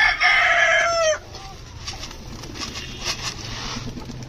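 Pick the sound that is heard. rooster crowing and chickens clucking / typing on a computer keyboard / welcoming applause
rooster crowing and chickens clucking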